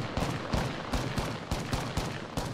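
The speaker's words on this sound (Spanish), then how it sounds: "Le he dado bastantes tiros con el enemigo." Rapid bursts of gunfire in the battle royale game Apex Legends, repeated shots cracking in quick clusters roughly every half second, loud and close throughout.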